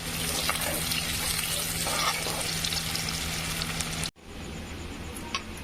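Onion sizzles in a pan while browning, a steady bright hiss of frying that continues throughout, briefly cut off and then resuming more quietly.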